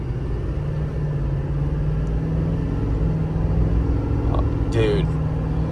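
L5P diesel truck engine held at mid throttle, a steady low rumbling drone that swells slightly toward the end, with a brief spoken exclamation near the close.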